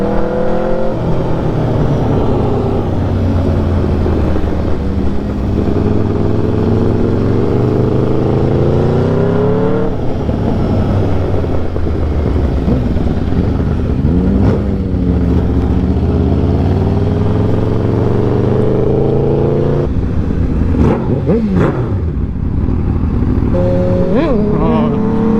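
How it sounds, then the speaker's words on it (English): Straight-piped Aprilia RSV4 superbike engines warming up, loud and close throughout, with repeated revs rising and falling over a steady idle rumble and voices talking over them. "the bikes are getting warmed up already"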